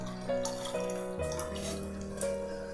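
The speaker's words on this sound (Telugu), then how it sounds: "ఈ రసాన్ని అంతా కూడా ఒక బౌల్లోకి వేసుకుందాం." Rasam, a tangy tamarind soup, being poured into a bowl, heard as a steady trickling pour of liquid, moderately close, with a constant low hum beneath.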